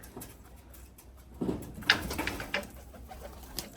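Pigeons coo softly, with a brief flutter and light pattering close by; no one speaks.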